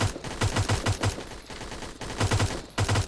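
A burst-mode gun firing in Roblox Blackhawk Rescue Mission: loud, rhythmic clusters of quick shots repeat in short bursts with brief gaps between them.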